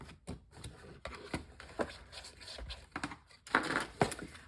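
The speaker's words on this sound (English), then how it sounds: "Just use your bone folder and push it down." A bone folder pressing and scraping down the sides of a paper card box: a series of close, dry taps and scratchy rubs in irregular bursts, quiet and without speech.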